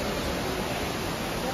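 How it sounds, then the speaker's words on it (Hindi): Waterfall deep inside the Gupteshwar Mahadev cave, a dense continuous rushing roar, loud and even across the short moment with no distinct breaks. "ये है वो वाटरफॉल गुप्तेश्वर महादेव मंदिर के अंदर"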